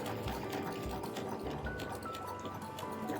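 Sewing machine stitching fabric for a vest, a steady close mechanical whir running continuously through the whole stretch with no talk.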